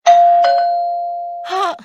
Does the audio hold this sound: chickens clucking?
no